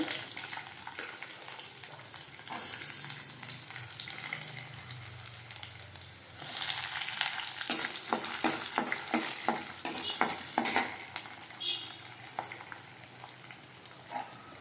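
Chana dal and onion fry in a pan with mustard seeds for urundai kuzhambu, a steady sizzle that swells louder midway as a spoon stirs in quick scraping strokes, with no voices.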